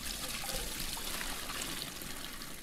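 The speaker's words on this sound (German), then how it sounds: "Machen wir nochmal Wasser rein." Water pours steadily into an aquarium in the game Aquarist, a continuous hissing, splashing rush at moderate volume with no pauses and no voices.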